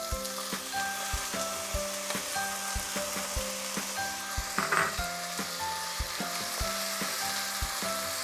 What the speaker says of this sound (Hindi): अब आइए इसमें हम ये आलू डाल देते हैं।